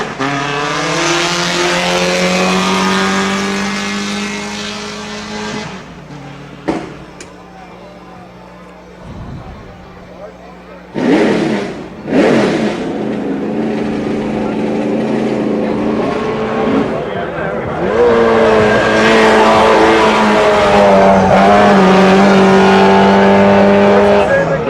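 A GT Light class race car launches from the start line of a hill climb run, its engine loud and close, with revving, gear changes and brief breaks before it climbs again, under a commentator's voice.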